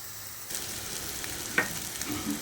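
Fried potatoes being stirred with spices in a wok, a steady soft sizzle with a quick scraping clatter of the spoon partway through, close by and moderately quiet.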